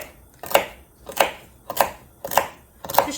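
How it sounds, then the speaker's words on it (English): A knife chops food on a cutting board in a home kitchen, five crisp evenly spaced thuds about half a second apart, close and clear with no talk. "I'm just chopping"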